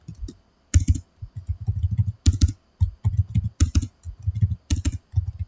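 Close, dry clatter of typing on a computer keyboard, short bursts of rapid keystrokes separated by brief pauses, with a few louder key taps standing out.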